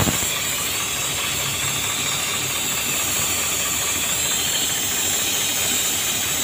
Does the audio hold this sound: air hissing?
yes